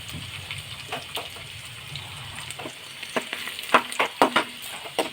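Garlic and dried red chillies hit hot oil in a pan for okra fry, giving a steady sizzle with scattered crackles and a run of sharp pops and spits toward the end, close and fairly loud.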